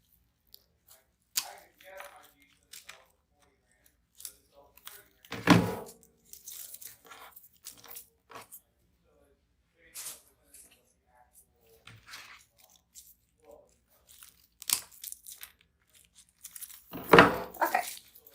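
Scissors snip through deco mesh for an Easter bunny wreath, giving scattered crisp cuts and crinkling rustles with two louder bursts of crunching, fairly close, amid quiet pauses.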